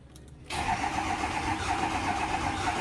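Diesel dually truck cranking after the glow plugs cycle, then catching with a sudden loud start at about half a second and settling into a rough, uneven idle that continues to the end.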